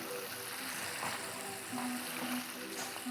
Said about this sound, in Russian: Жарим, само собой, до золотистости, иногда пытаясь понять, что там внутри происходит.